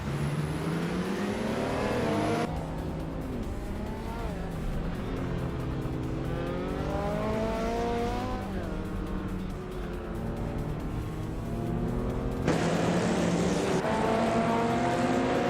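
Race cars in a racing video game drone steadily with wavering engine pitch as they rev and shift, loud and continuous, with a brief change in tone near the start and end.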